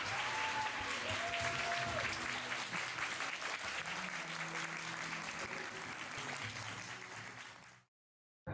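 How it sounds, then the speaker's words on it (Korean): Warm audience applause at a lecture in a hall, steady dense clapping for about eight seconds with faint tones underneath, then cutting off abruptly. "여러분 따뜻한 박수 부탁드립니다."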